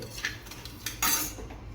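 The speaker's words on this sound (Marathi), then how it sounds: "मस्त असं इथं मी भगर भाजून घेते" Barnyard millet (bhagar) dry-roasting in a pan with no oil, a few soft scraping and clinking touches of a utensil against the pan, quiet and close, with no talk.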